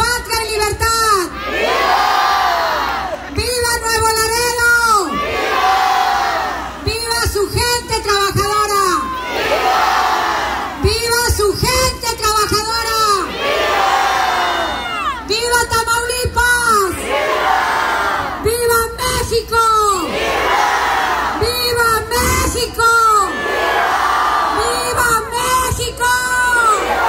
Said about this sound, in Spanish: ahora vamos a prepararnos para el grito de independencia